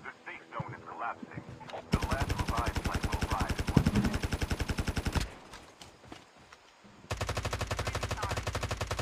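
Rapid automatic gunfire in Call of Duty Mobile, fired in two long sustained bursts with a short pause between them, loud and close, while people talk over the action.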